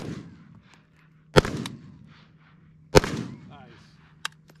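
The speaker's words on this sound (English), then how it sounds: "Two shots center mass." Two loud, sharp gunshots crack out about a second and a half apart at an outdoor shooting range during a competition, each with a short rolling echo, followed by a fainter distant shot, with a voice heard between them.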